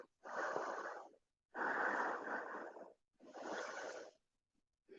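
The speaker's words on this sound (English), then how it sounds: "Breathing deeply" Deep breathing during a yoga transition flow: three long, slow, audible breaths, each a breathy rush lasting over a second with short quiet pauses between, close and fairly soft.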